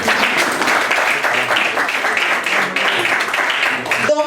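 Guests at an 80th birthday party in Matadi applaud steadily, a loud, dense clapping with a slightly rhythmic pulse that fills the room and then stops abruptly.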